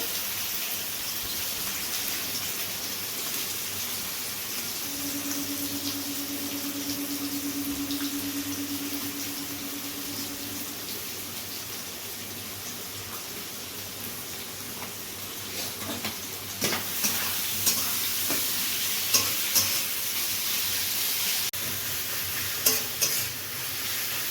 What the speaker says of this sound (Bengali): তেল গরম হতে এবার গোটা গরম মশলাগুলো তেলে ভেঙে দেওয়া হলো প্রথমে পেঁয়াজগুলো ভেজে নেওয়া হবে বাদামি করে